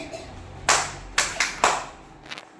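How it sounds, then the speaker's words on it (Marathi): Hands clap close by: one clap, a short pause, then three quicker claps in a row, followed by fainter taps. "एक टाळी हळू वाजवायची, 3 टाळ्या पटपट वाजवायच्या"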